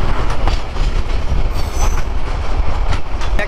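A passenger express train running from Dhaka toward Cox's Bazar, heard as a loud, steady rumble of wheels on rails with rattling carriage noise and faint clickety-clack throughout, no voices.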